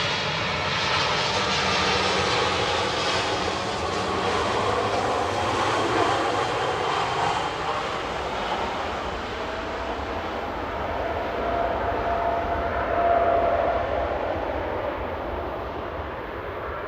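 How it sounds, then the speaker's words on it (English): A Qatar Airways Boeing 787-9 on its takeoff roll at Manchester Airport, bound for Doha, gives a sustained loud jet roar with a whining tone that rises and falls and a brief surge late on. "Qatar flight 22 on the roll, heading back to Doha, 787-9, A7BHO"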